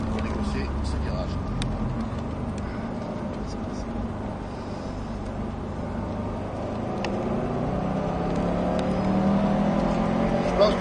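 A Subaru WRX STI brakes hard and downshifts into third for a corner, its engine droning steadily from inside the cabin and rising slightly near the end while people talk over it.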